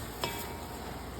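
A spoon stirs sautéed pork ham and peppers in a large pot of food for forty people, one brief scrape standing out over a steady low frying sizzle.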